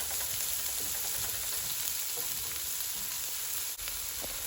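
Cabbage and chicken with garlic and pepper sizzle steadily in a hot pan, a close, continuous crackling fry with occasional stirring clicks and no talking.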